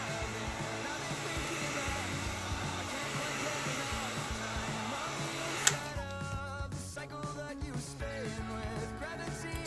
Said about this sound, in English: Just hit it with the heat gun, press it down again